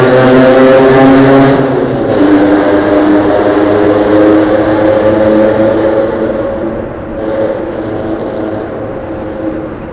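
Honda PCX 150 scooter ride on a long-distance road trip, with a loud steady engine drone and rushing wind noise that shifts in pitch as the speed changes.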